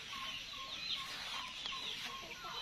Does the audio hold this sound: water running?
no